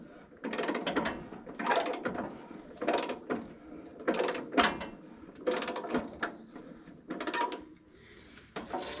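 A sawmill band saw blade is turned by hand while being tensioned, giving repeated bursts of ratcheting, grinding metal and gear noise with short pauses between them, close and fairly loud.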